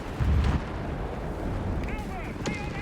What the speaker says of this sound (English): This one's going to get hit by incoming artillery fire.